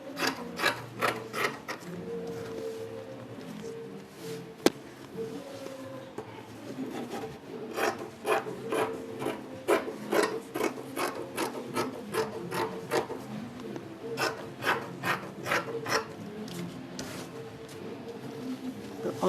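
Scissors cut through fabric for a wrap peplum top in repeated rhythmic bursts of crisp snipping and rasping, pausing briefly before resuming, close and moderately loud.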